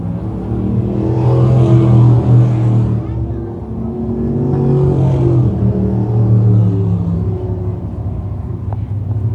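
Crate sprint cars at Can Am Speedway circling the track, engines droning and rising as they pass in waves, with a commentator talking over the steady roar.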